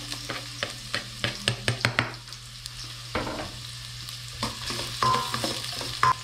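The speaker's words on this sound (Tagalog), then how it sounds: "Ayan, gisa na natin mga paps yung luya." Ginger, onion and garlic sautéing in a pan, cooked outdoors for a catch-and-cook meal: steady frying sizzle with a string of sharp stirring scrapes and clacks, loud and close, no talk.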